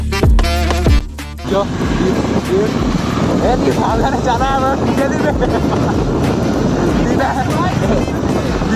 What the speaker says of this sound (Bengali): ফাঁকা মাঠে হেভি হাওয়া দিচ্ছে